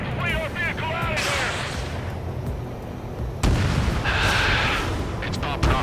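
Anti-aircraft guns fire in the Ace Combat 7 video game, a dense rumble of booming bursts and crackling shots that swell after a pause, with radio voices talking over the barrage.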